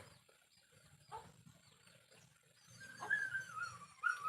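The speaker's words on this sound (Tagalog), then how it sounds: "Nananaginip yung aso." Faint, soft whimpers and thin whines from a dreaming dog rise near the end over a quiet room hum, brief and irregular.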